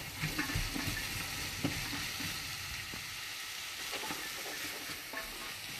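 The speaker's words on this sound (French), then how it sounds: "on remue bien comme ceci" A pan of sautéed vegetables with candied tomatoes and peas, cooking for a salmon risotto, sizzles and crackles steadily while being stirred, with scraping strokes across the pan throughout and no voices.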